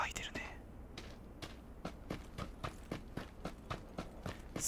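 Fast, evenly spaced running footsteps in the mobile shooter PUBG Mobile thud along without a break, with a faint voice near the start.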